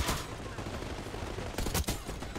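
Gunfire in the video game Call of Duty Black Ops 6, with loud, dense bursts of shots rattling close by in quick succession, with two sharper cracks near the end.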